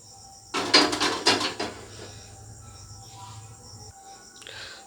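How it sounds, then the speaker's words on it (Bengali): Metal pot of milk set down on a kitchen stove, a quick burst of clattering and scraping near the mic, followed by quiet hum and a faint later clink. "তাহলে দুধটা আমি জাল করতে বসিয়ে দিচ্ছি"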